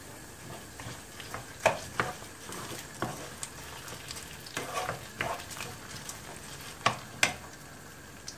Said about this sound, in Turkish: Olana kadar kavuracağım.